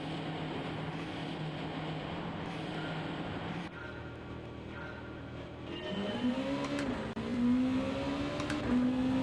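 Race car engines at the start of an online Gran Turismo 7 daily race, a dense field droning together before one engine note climbs sharply through the gears, loud and close.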